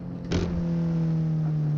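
A 2020 BMW X6M on the Nürburgring gives a steady, loud engine drone with a strong low hum, after a brief burst of noise near the start and no clear gear shifts.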